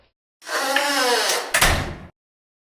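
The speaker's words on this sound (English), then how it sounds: "Close the door." An office door in a scene from the film Plan 9 From Outer Space swings with a brief creaking rub, then shuts with a single firm thud, close and alone.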